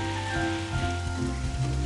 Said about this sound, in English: Looks like it might be raining out there.